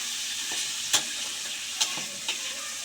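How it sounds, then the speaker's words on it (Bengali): Ridge gourd frying in a pan with salt and turmeric is stirred, giving a steady close sizzle broken by three or four sharp scraping strokes of the spoon. "এবার এই নুন হলুদটাকে আমি এর সাথে ভালো করে মিশিয়ে দেব।"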